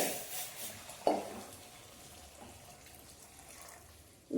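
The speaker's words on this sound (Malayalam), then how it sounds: "അതിനുശേഷം വെള്ളം ഒഴിച്ച് കൊടുക്കുക. ചൂടുവെള്ളമാണ് കേട്ടോ ഞാൻ ഒഴിക്കുന്നത്." Hot water goes into a pan of carrot kootu, giving a close splash and sizzle with a sharp clink, then a quieter bubbling simmer and another clatter at the end.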